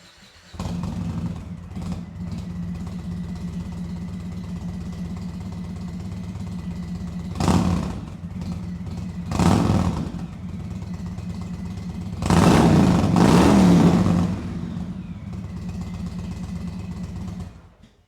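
A motorcycle engine fitted with a Tab Performance header and new tune starts and settles into a steady idle, then revs sharply several times, with a longer, louder rev near the end before cutting off.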